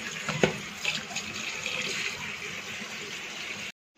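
Tap water runs steadily into a home kitchen sink as ingredients are rinsed before cooking, a continuous close splashing that holds for several seconds and then stops abruptly.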